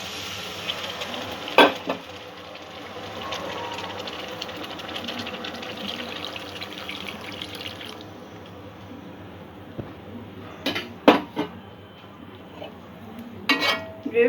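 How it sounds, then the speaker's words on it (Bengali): Prawn Manchurian gravy simmers in a pan with a low, steady bubbling hiss, and a few sharp scrapes and clinks of a spoon stir it, briefly near the start and again toward the end. "গ্রেভিটা কিছুক্ষণ ফুটিয়ে নেব।"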